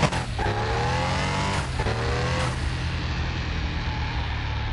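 A Porsche in Car Mechanic Simulator 2021 drives with a loud, steady engine drone that briefly shifts pitch early on, then settles into a constant rushing roar with no talk over it.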